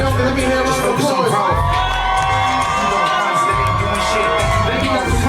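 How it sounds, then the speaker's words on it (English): A concert crowd cheering, shouting and whooping after a call for applause, loud and dense, with a rising and falling wave of voices and a tonal ringing under the noise. "One night only, let me hear a round of applause."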